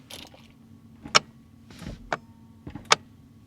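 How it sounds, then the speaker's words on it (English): Several short mechanical clicks and clunks from a Jaguar XK8 shift interlock solenoid moving as the brake pedal is pressed, spaced irregularly over a quiet low hum, close by and fairly sharp. "that's the sound of the solenoid moving."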